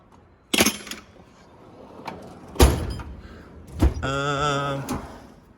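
A metal toolbox drawer clunks and rattles a few times, then slides with a squeaky, whining scrape before settling shut; nearby and fairly loud.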